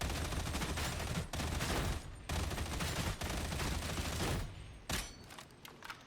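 Rapid, dense volleys of Columnus rifle fire in the video game Warhammer 40k: Darktide, loud and sustained with brief pauses between bursts, layered over battle noise.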